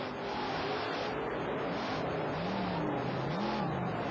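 The Equalizer GMC monster truck, driven by Greg Holbrook at a 1991 monster truck event in Pontiac, Michigan, idles and revs near the starting line, a steady loud engine rumble with a wavering pitch.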